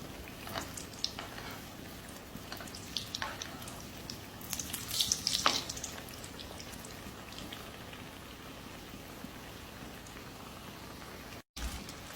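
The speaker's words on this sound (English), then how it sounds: "Now flip it to the other side. Fry it until golden brown." Chicken shami kebabs frying in a pan, a steady soft crackle and spatter like light rain with a few sharper pops in the middle, fairly quiet throughout.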